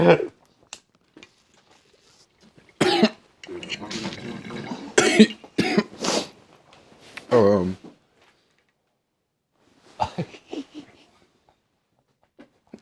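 Someone coughs in harsh, repeated fits, loud and close, with short breaks of quiet between bursts.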